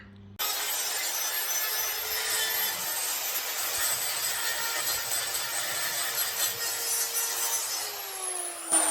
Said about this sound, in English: So we'll keep grinding and see how we go.